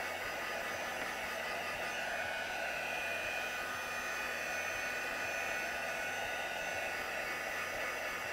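A hair dryer blows steadily and close by, drying a watercoloured stamped card with metallic paint, a continuous even whoosh with no pauses and no talking.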